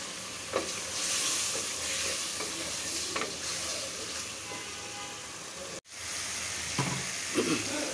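Spice masala being sautéed with magur fish in a pan, continuous close sizzling under repeated scraping stirs, with one brief dropout near the end and no talking.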